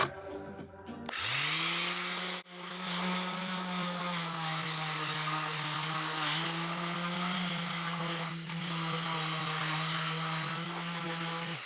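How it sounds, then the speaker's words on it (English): Power sander working over wooden cladding inside a van, a loud continuous whining drone that starts abruptly and holds steady for the rest of the clip with slight pitch dips. "This is what happens when you sand it."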